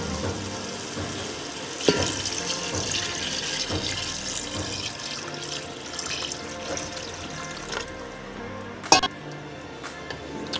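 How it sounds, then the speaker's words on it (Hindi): Water pouring into a pot of browned chicken for tikka pulao, a continuous rushing splash with a couple of sharp knocks near the end. "अब इसमें हम पानी शामिल कर देंगे।"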